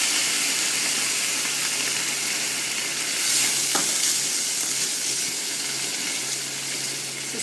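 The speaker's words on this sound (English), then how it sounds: "Just loosen all those caramelized sticky bits on the bottom" Apple sauce and cream are stirred into pork pan juices while the caramelized bits are scraped loose, giving a continuous soft sizzle and bubbling under steady stirring, with one brief scrape partway through.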